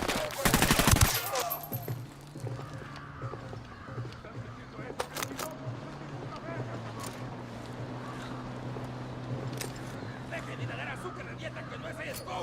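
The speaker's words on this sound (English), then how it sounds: "Taking fire from inside the watchtower." Gunfire rings out from a watchtower in Tom Clancy's Ghost Recon on PlayStation 4, opening with a loud burst of rapid shots, then scattered single cracks over a steady low game hum, with voices faintly in the mix.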